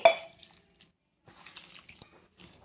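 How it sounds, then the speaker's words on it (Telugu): A short splash of water into jowar batter followed by soft trickling and dripping sounds, fairly quiet and intermittent, with no voices. "ఇలా నీళ్ళు అనేది చూసుకుంటూ వేసుకోండి"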